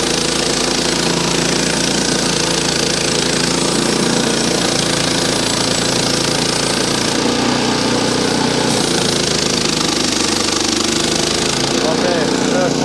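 A steady, loud engine of a Frontier OS18 sawmill drones continuously at a constant pitch, close by, with a slight shift in tone partway through.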